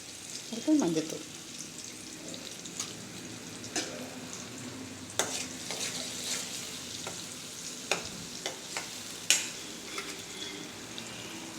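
Turmeric powder frying in a pan for Thakali soup, a soft continuous sizzle with intermittent spoon scrapes and knocks as it is stirred, close with no talk.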